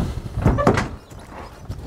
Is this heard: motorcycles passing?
no